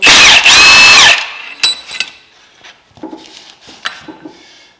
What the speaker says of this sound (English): We're going to take the clutch bolt out of the P22.